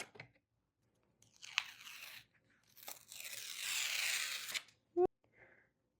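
A blade scrapes and slices through the liner of a sticky board used for framing a large cross stitch, giving close, crisp tearing and cutting strokes with pauses between them and a sharp tap near the end.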